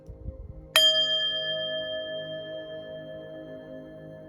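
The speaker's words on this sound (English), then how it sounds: "let's ring this bell, clear the energy, and get into your reading" A small bell rung once to clear the energy, a single bright strike followed by a long, clear ringing tone that slowly fades, near and alone after a moment of faint low rustling.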